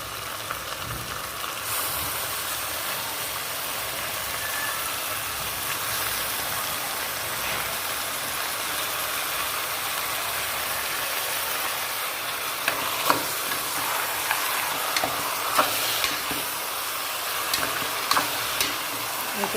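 Mutton pieces hit a pan of frying tomato masala, giving a steady broadband sizzle throughout with scattered stirring clicks and scrapes growing more frequent toward the end, with no talking.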